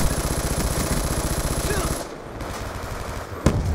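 An automatic turret in Black Ops 2 fires a fast, steady stream of close, loud shots for about two seconds, stops, and then lets off one more sharp shot.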